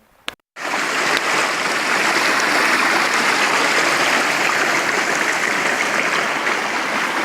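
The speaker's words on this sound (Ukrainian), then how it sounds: "Дві річки впадають в одну саме тут, там, внизу." A mountain stream rushes steadily where two rivers merge into one, heard on a hike up Khomiak mountain. The loud, continuous wash of water starts abruptly after a brief pause and holds evenly throughout, with no voices.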